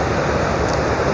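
Water of the Sutlej River rushes steadily at the Head Islam headworks near Hasilpur, a loud, continuous broadband roar with no talk.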